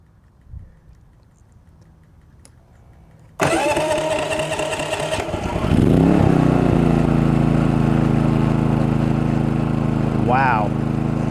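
A MaxpeedingRODS 4000 watt dual fuel inverter generator with electric start cranks and fires up, then runs loud and steady, its engine note rising as it settles into idle, with a brief voice underneath.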